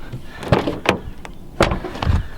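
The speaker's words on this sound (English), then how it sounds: "Here, I'll open the door so you can see them." A Ford Mustang GT's car door clicks open with a couple of sharp latch and handle sounds, close by, followed by a thud.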